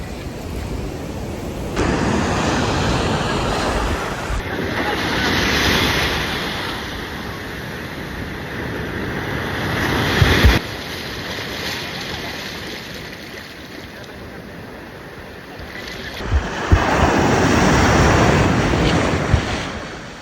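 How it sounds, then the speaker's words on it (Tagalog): Strong sea waves roll and break on the shore at a camping spot, a steady loud wash of surf with surging swells and occasional bursts, no voices. "Lakas ang alon."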